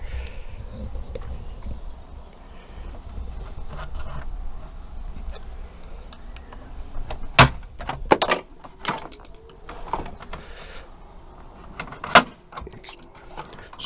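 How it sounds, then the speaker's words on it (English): Plastic trim clips are pried off the door of a 2011 Relay/Boxer/Ducato campervan. A few sharp snapping pops stand out over a low, faint rumble, with scattered small handling clicks between them. "once you pull these clips off, then the trim just slides forwards towards the front of the van"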